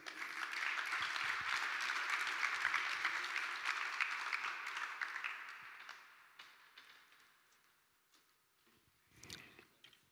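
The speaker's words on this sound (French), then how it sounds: "On peut les applaudir." An audience applauds labelled tennis clubs at a sport-health event, a dense burst of clapping that runs strong for about five seconds, fades away, then returns briefly as a few scattered claps.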